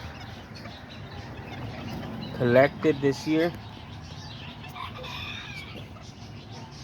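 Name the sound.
bantam hens clucking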